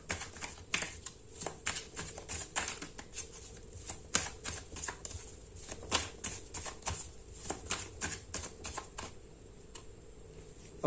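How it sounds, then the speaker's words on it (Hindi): Tarot cards are shuffled close by in a quiet room, a run of sharp riffling snaps and soft slides arriving in irregular bursts, with no voices. "सबसे पहले कार्ड्स को अच्छे से शफल कर लेते हैं।"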